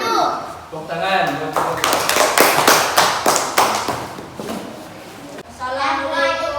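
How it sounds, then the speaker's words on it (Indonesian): Audience clapping at an Indonesian teaching-performance presentation, a burst of many hands that swells loud and dense for a few seconds, then fades before a second round of clapping near the end, with a voice briefly heard. "Tepuk tangan."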